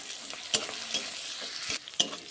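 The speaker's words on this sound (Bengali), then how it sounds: "রসুন কুচিটা দিয়ে দিলাম আর দিয়ে দেব আদা কুচি, দিয়ে একসঙ্গে ভালো করে আবারও আমি ভেজে নেব।" Chopped garlic and ginger fry in a pan for a Bengali chicken pasta, with a soft steady sizzle and scraping stirs clicking through it, close up and at moderate loudness.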